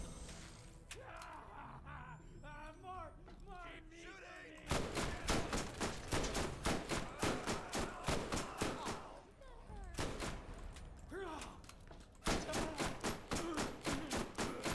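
Borderlands weapon firing in steady, evenly spaced loud shots with a slow fire rate, a long regular volley after an opening of game sounds, then more repeated shots near the end.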